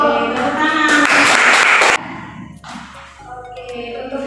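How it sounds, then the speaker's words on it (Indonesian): A school class claps hands for about a second, a dense burst of clapping set between a voice before and children's voices after. "Tepuk tangan."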